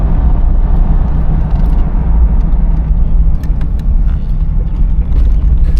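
A 1981 Cadillac Eldorado cruising and rolling over a dip in the road, heard from inside as a loud, steady low rumble of road and engine noise with faint knocks from the suspension.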